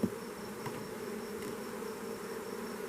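Honeybees buzzing around hive frames, a steady close drone with a few individual bees passing nearer, heard alone with no voices.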